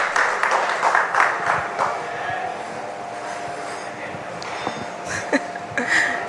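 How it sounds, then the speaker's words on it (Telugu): An audience at a national award ceremony claps loudly. The dense, steady applause runs throughout, with a voice speaking over it. "గట్టిగా చప్పట్లు."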